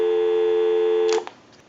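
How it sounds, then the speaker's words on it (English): A steady, loud telephone dial tone hums on the line of a candlestick telephone converted for use, then cuts off abruptly with a couple of faint clicks. "will give you some dial tone"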